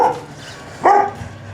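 A dog at an animal shelter gives a soft whine, then one sharp, close bark, with faint low noise between them.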